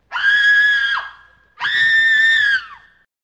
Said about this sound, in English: how about we follow the screams?